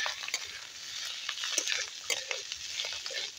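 Potatoes frying and being stirred in a pan, a soft sizzle with intermittent scraping and clinks of the spoon against the metal, close and fairly quiet with no talking.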